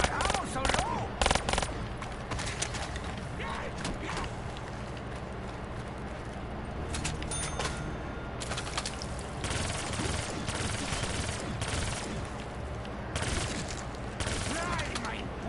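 Dense, rapid automatic gunfire in Black Ops 3's Gorod Krovi zombies map, bursts running almost nonstop for the whole stretch, loud and close with a few heavier blasts early on.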